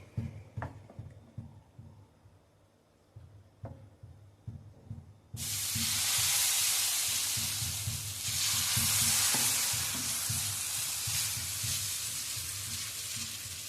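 Tomato omelette batter goes into hot oil in a pan. A few quiet knocks and stirring sounds come first, then a loud, hissing sizzle bursts in suddenly and keeps going strongly to the end.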